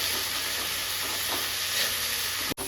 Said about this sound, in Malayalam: നമ്മൾ ഈ മുരിങ്ങയിലയിലേക്ക് ഇട്ട് കൊടുക്കുന്നു. അത് കഴിഞ്ഞ് നന്നായി ഇളക്കി കൊടുക്കുക.